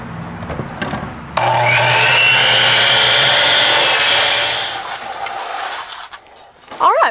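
A compound miter saw whines loudly through a single cut in wood lasting a few seconds, then spins down, with a brief voice at the end.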